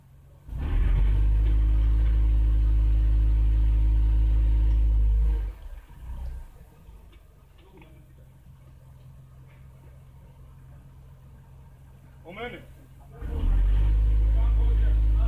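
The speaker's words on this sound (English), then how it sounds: "So I'm going to rev it up, actually power brake it" A Mercedes engine revved hard while power braking, a loud sustained low roar that drops away, idles quietly with a brief rise, then surges loudly again at the end.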